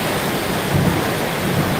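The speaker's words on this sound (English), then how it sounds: "I had no idea it was raining this hard" Heavy rain roars steadily with a dense, unbroken hiss of water, loud and close, with a low rumble underneath.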